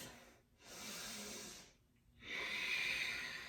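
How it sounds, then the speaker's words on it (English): Deep, slow breathing during a yoga pose, with two long airy breaths separated by a brief pause, close and soft with no talking. "Take 2 deep breaths right here."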